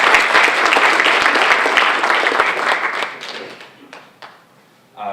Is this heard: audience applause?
yes